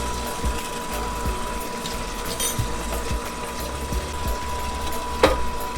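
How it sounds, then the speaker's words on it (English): A popcorn machine motor hums quietly and steadily with a faint whine, joined by sparse ticks and rattles from the kernels and oil being stirred inside. "Turn on our motor."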